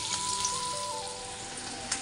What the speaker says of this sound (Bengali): এই যে ডিম ভাজা বসিয়ে দিয়েছি